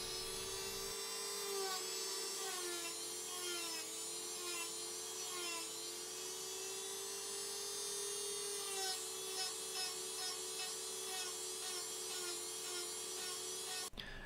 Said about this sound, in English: I just ended up rounding all of the round edges with my rotary multi-tool